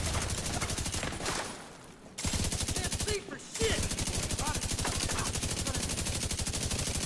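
Rapid automatic gunfire from The Division 2, loud, dense bursts of shots that stop for two brief pauses before resuming steadily.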